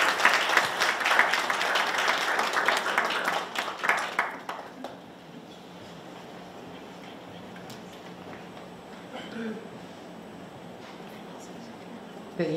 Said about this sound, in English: So please give a round of applause to Venerable Mansin.